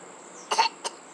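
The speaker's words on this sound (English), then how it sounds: "I'm coughing." A single short cough sounds close by in a quiet setting, followed a moment later by a smaller second cough.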